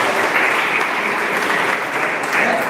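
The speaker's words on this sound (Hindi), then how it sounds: "एक बार आप सब अपने लिए एक बार जोरदार ताली बजाएं" Loud, dense applause from a gathering of students at a school merit award ceremony, continuous clapping without a break.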